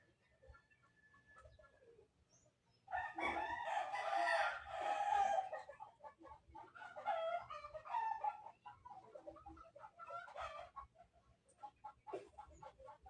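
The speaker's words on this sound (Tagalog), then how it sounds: "Napakaingay ng mga manok." Roosters crow several times at moderate distance, with clucking and other chicken sounds in between against a quiet background, from a neighbour's flock.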